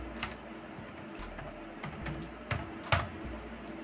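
Close, quiet tapping on a computer keyboard, a quick irregular run of keystrokes with a few sharper clacks, no voices.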